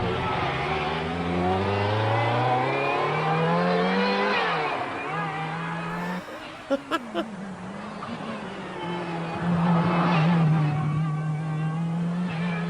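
A 1984 Lancia Delta S4 rally car accelerates hard, its engine revving and rising in pitch, with sharp pops mid-run, then another loud climbing pass; people react excitedly in between.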